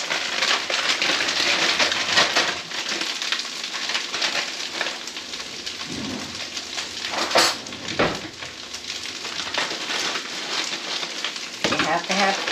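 Onions and a bag of peas fry in a pan for chicken fried rice, a steady broadband sizzle with occasional clinks of utensils against the pan, running throughout at moderate level.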